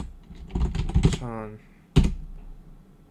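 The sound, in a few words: typing on a computer keyboard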